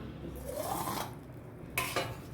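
A metal lid clatters onto a pot of ghee rice, two quick bright clinks close by after a stretch of soft stirring and scraping in a home kitchen.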